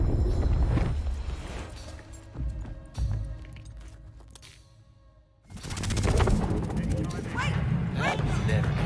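Gunfire in Unknown 9 Awakening, bursts of rapid shots and impacts rattling in the first seconds, a quieter lull, then renewed heavy firing, with a voice talking over parts of it.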